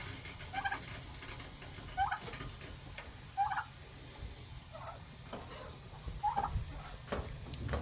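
A Bourbon Red turkey gobbles in short bursts, about five times at regular intervals, fairly faint over a steady background hiss.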